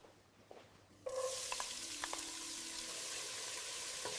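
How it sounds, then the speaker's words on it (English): Chopped onions hit heated oil in a pot with a sudden loud sizzle that settles into a steady, dense frying hiss, with a few light clinks of a utensil stirring, close and continuous. "Let's get these onions sauteed."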